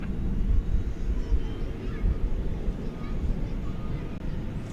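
An American Airlines jet takes off from runway 18 left at DFW Airport at night, a steady, distant broadband roar that stays low and even throughout.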